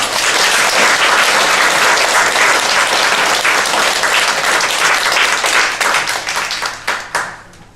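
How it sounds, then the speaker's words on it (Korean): A church revival congregation claps loudly to welcome a guest speaker, a church history professor, with sustained dense applause that thins into scattered individual claps near the end. "우리 큰 박수로 함께 우리 환영하시겠습니다"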